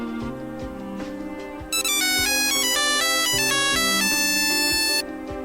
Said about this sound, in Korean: 그때 휴대폰이 울립니다.